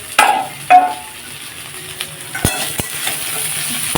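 Pointed gourd and bitter gourd mixed vegetable curry fries with an onion tempering in a wok, a low sizzle broken by a few metallic spatula clinks and scrapes, close and fairly loud.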